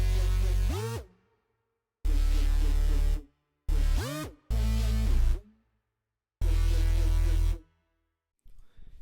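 Layered synthesizers built in Logic play a hyperpop-style beat. Five loud, distorted bursts with pitch-swooping notes come in a choppy rhythm and are separated by gaps of silence, with no talking.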